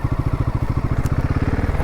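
A motorcycle engine idles close by after a ride on an Odisha highway, with a steady loud low chugging pulse that holds even for a couple of seconds.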